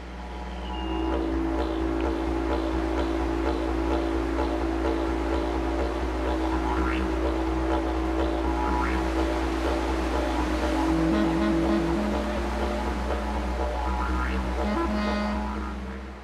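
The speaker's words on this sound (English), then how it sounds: "when you take the boat out in that white water, it is the ultimate adrenaline rush" A boat powering through white-water tidal surf in the Australian bush, with a steady loud engine drone and rushing, churning water running continuously throughout.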